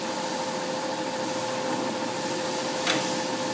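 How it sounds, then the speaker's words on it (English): An 18-inch by 102-inch Lodge & Shipley engine lathe runs with its longitudinal feed engaged, a steady mechanical hum and whine holding evenly throughout, with one brief higher click near the end. "Okay, he's engaging the longitudinal feed."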